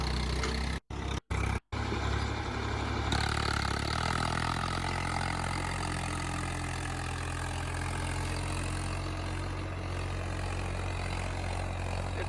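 A tractor engine of about 50 horsepower drones steadily and loudly under load while pulling a plough through a field, with a few brief dropouts near the start and no voices.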